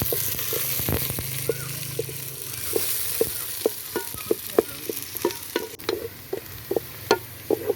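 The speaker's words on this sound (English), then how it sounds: "We start by frying our onions into brown in color." Onions frying in a pan while being stirred in an African village kitchen, with steady sizzling under a run of sharp, irregular scraping and tapping strokes from the utensil, fairly close and moderately loud.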